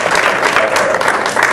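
A room audience claps to vote for a Halloween costume, brisk dense clapping running steadily throughout, close and loud with no pauses.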